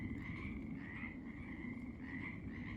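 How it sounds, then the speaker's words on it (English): Frogs croaking on an evening spring walk near a golf course, a dense, continuous chorus of rhythmic calls heard close and fairly loud, with no voices. "Do you hear that? They're definitely very talkative. Those frogs are."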